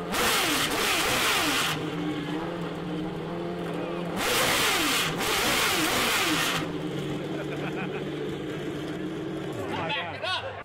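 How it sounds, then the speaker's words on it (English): The Chevrolet Corvette C8R, Chevy's first mid-engined GTLM race car, revs loudly in several sharp, rising bursts with a high wailing pitch, and people talk between the revs. "It is Chevy's first mid-engined GTLM race car. And it sounds like a Ferrari."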